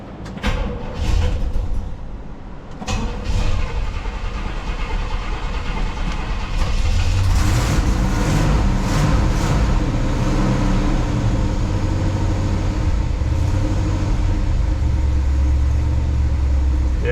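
A 1967 Pontiac Grand Prix convertible engine fires up and settles into a loud, close, rough idle with a low rumble that fills the whole stretch.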